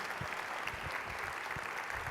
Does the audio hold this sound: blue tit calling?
no